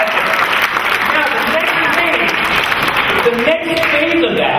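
A conference audience applauds loudly and steadily, with a murmur of voices mixed into the clapping throughout.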